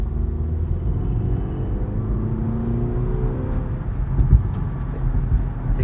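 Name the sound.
BMW X1 driven through turns in sport mode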